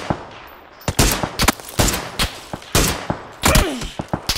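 Gunfire from the video game PUBG on Xbox One X: a rapid string of sharp, loud shots in irregular bursts, some clustered like automatic fire, with no one talking during the shooting.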